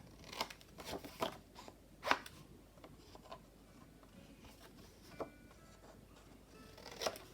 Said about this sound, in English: And then just cut these edges.